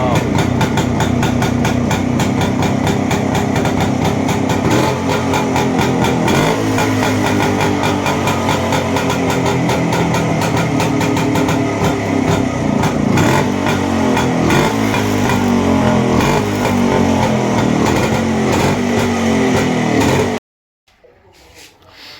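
An old motorcycle engine runs loud and close with a steady, rapid, throbbing beat and slight shifts in pace, then cuts off abruptly near the end.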